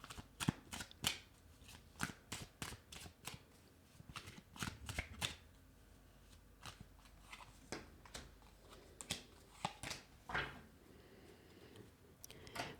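Tarot cards from the Waite-Smith Borderless deck are shuffled by hand in quick riffling bursts and soft slaps, with brief pauses between rounds, close and fairly quiet.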